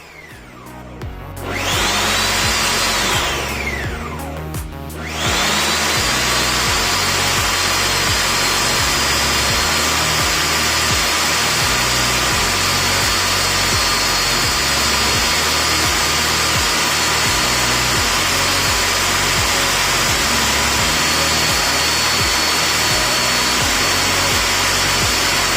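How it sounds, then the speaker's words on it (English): A Ninja Foodi Power Blender runs its Auto IQ program on a strawberry smoothie, with a loud whirring start, a short pause and a falling spin-down, then a long, steady, roaring blend. "the Auto IQ program works by pausing and starting itself and then doing a longer blend"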